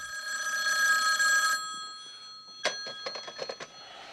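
A telephone rings with a steady electronic trill for about a second and a half, then a few short sharp clicks and knocks follow.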